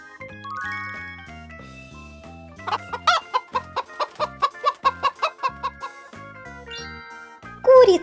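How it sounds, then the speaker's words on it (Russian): A hen clucks in a quick run of about a dozen evenly spaced, close clucks laid over a tinkling children's melody, with a few bell-like notes after. "Курица."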